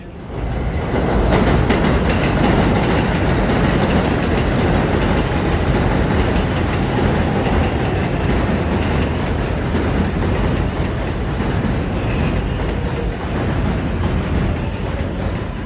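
A New York City subway 7 line train runs loud and close toward a station: a steady, heavy rumble of wheels on rail that holds throughout, with no talking.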